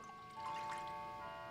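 Filtered water poured into a bowl for a keto schnitzel batter with heavy whipping cream, a soft, close, gentle stream running for about a second.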